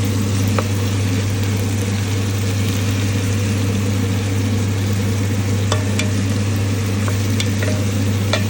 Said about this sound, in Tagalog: gisahin ang luya at sibuyas